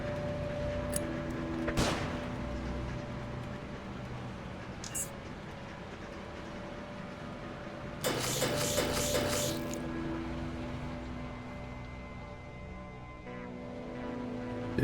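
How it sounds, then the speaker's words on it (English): In the Underrail video game, a flashbang grenade goes off with a sharp bang near the start. A later cluster of rapid, crackling gunfire follows, all over a low steady game hum. "Flashbang."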